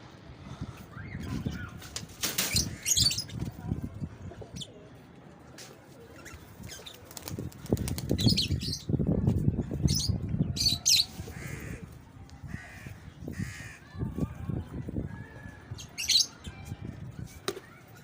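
Pigeons call and coo over scattered rustling and bursts of wing flaps in Karachi, with crows cawing in the distance.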